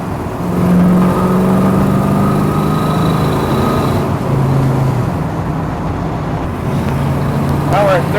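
A 1965 Ford Mustang A-code fastback with a four-speed runs down the freeway, its engine droning steadily with road and wind noise, loud and close from inside the car, with a brief shift in pitch midway.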